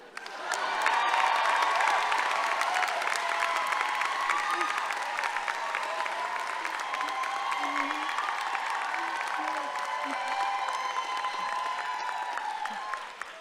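An audience at a law school commencement applauds to welcome the J.D. student speaker, steady dense clapping throughout with scattered cheers, fairly distant in a large hall.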